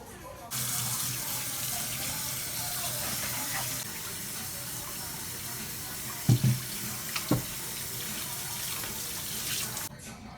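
Tap water running steadily into a kitchen sink to rinse salt-cured corned pork, a continuous close splashing hiss with a couple of brief clunks near the middle before it shuts off.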